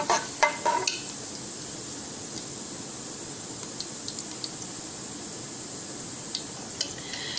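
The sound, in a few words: whole spices roasting in oil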